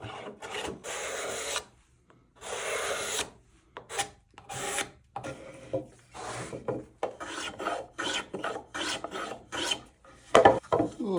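Hand rasp chamfering the edge of a walnut board, in repeated scraping strokes, some long and steady, others short and quick, close up with no talk.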